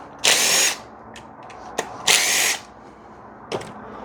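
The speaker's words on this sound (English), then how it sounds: "I'm going to cheat a little bit, use my impact wrench just to get these off." Impact wrench loosening 10mm coil pack bolts on a Pontiac Solstice engine: two loud, close bursts of whirring hammering about half a second each, with small clicks and a brief third blip between them.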